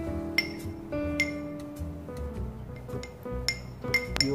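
A metal spoon clinks against a glass jar while pressing moss down over gravel in a terrarium, giving several sharp, bright taps spread irregularly over a few seconds, close and fairly clear with no speech.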